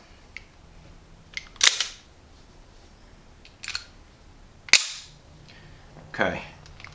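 An H&K pistol slide is racked back and released into battery several times, each a sharp metallic clack followed by a brief ringing tail, close and crisp, separated by short pauses.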